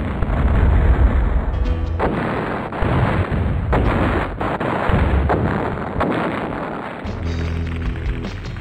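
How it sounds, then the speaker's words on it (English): Carpet bombing in the flight sim Fighters Anthology, heard as a continuous heavy rumble of explosions with repeated booms and a wind-like roar, loud and sustained throughout. "Nothing like a good old-fashioned carpet bomb."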